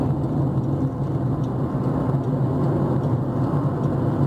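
A car overtakes on a highway near Trevo de Ibo, with a loud, steady roar of engine and road noise heard from inside the vehicle and no talking.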